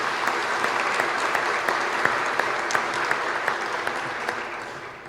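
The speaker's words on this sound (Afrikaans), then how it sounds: "kom ons gee vir hierdie 10 dogters 'n lekker hande klap" A church congregation at a Good Friday service claps for ten daughters, a dense, steady round of applause close and full that gradually tapers off toward the end.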